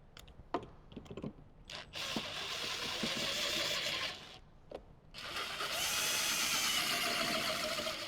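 A power screwdriver drives screws into new 6.5-inch Kicker speakers in a 2007–2014 Jeep JK Wrangler, with bursts of whirring motor noise between short pauses and small clicks, fairly close.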